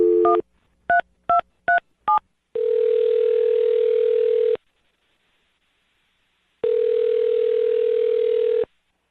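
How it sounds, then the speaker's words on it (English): Five quick keypad tones beep in succession, followed by two long ringback tones separated by silence, loud and close. "dial her phone number right now, get her on the phone"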